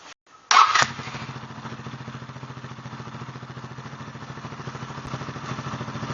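A GY6 scooter engine, started for the first time, cranks and catches after a brief start, then settles into a steady, slightly uneven putter, close and moderately loud.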